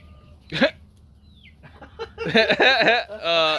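Chickens make scattered squawks and excited clucks nearby, with a quiet lull between them and a burst of bird cackling toward the end.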